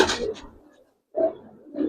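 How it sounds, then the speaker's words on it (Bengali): Racer pigeons of the Giribaz breed, silver coloring, give two or three close, soft guttural coos separated by short pauses, with no talk over them. "কবুতর দেখেন।"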